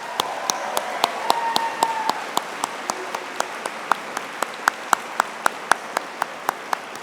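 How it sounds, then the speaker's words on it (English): Scattered applause rolls through a large hall at a college commencement, with a steady string of sharp, evenly spaced claps standing out close by over a softer wash of crowd clapping. "Let's give them another round of applause."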